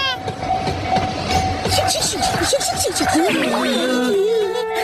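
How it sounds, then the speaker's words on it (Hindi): A mini train runs through a park in an animated cartoon, rolling with clattering movement and tonal squeals while voices talk over it. "मिनी ट्रेन भी चलती है इस पार्क में"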